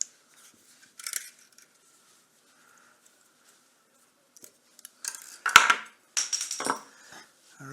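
Cutters snip through welding wire for a Pinnacle MIGARC 165 MIG welder: a few sharp, close metallic clicks and snaps separated by quiet pauses, busier toward the end.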